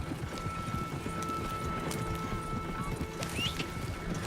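Rapid hoofbeats of a horse galloping in Red Dead Redemption 2, a dense even clatter held throughout under faint background tones, no talk.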